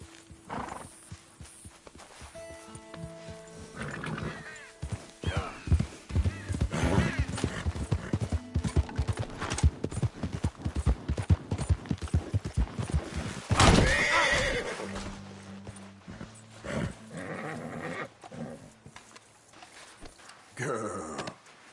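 Horse hooves clip-clop steadily in Red Dead Redemption, with loud whinnies and neighs, while a man urges the horse on between them.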